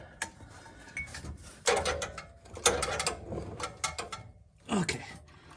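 A ratchet wrench cranks down bolts on a van's rusted pulley in loud, close bursts of rapid clicking, pausing between strokes, with metallic clanks and no voices.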